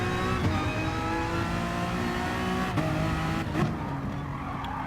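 A Honda NSX race car in a racing video game at the Nurburgring GP circuit, its engine howling at high revs with sustained tonal whine, brief shifts and tyre scrubs, loud and close with no talk over it.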